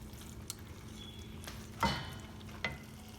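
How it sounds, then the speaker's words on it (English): Kadai masala simmering quietly in a pan on the stove, a soft, steady low bubbling with a few faint pops and clicks throughout. "It is kind of simmering"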